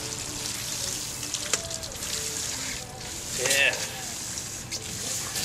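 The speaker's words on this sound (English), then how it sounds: "I'm pumping out a lot of sand here." A hand pump works sand and water out of a sand bar, giving wet gurgling, squishing strokes with a sharper splash near the middle, while someone speaks briefly over it.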